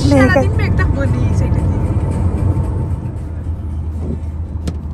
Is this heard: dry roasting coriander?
no